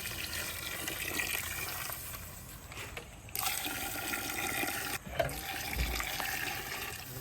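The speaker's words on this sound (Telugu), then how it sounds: "ఆరు గ్లాసుల రైస్కి మనం తొమ్మిది గ్లాసుల వాటర్ యాడ్ చేసుకుంటాం" Water pours into a rice pot outdoors in a steady gush, briefly pausing and resuming, with a constant running wash close by.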